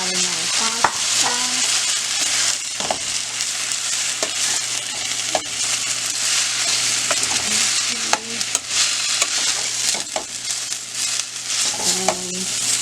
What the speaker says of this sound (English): Yeah, so see, it started sizzling.